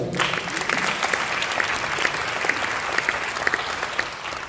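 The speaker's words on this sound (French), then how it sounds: "que vous puissiez applaudir toutes ces personnalités qui sont présentes sur cette table ronde" An audience at a disability, sport and work congress bursts into sustained applause, a dense wash of many hands clapping that holds steady and fairly loud throughout, with no voices heard over it.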